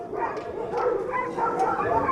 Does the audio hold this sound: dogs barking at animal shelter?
yes